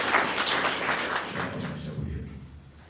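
Audience applause at a ceremony for a newly formed council, a short burst of clapping that fades away over about two seconds.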